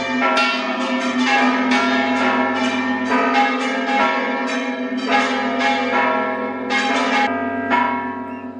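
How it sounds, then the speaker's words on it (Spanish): Church bells in Utrera ring loudly and continuously, overlapping peals clanging in an irregular rhythm that fills the air. "Las campanas llaman a los fieles para el encuentro con su Dios."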